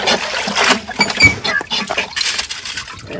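Rocks being washed in a sieve in a water basin while gem fossicking in Central Queensland, with repeated splashing and sloshing water bursts, chickens clucking nearby and people talking.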